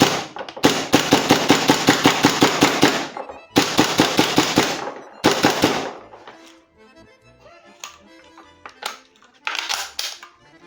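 Gas blowback airsoft rifle firing rapid bursts, loud and close, with dense rattling volleys in several groups separated by brief pauses, then scattered lighter clicks and a final short burst.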